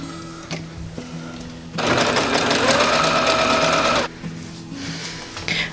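Domestic sewing machine running a zigzag stitch on fabric while upcycling a top into a girl's dress, a loud rapid mechanical whir lasting about two seconds between quieter handling noises.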